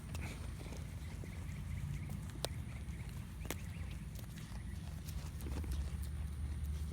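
Goat hooves clip-clopping on hard ground, a scattered run of sharp clicks over a low rumbling background, near and moderately quiet.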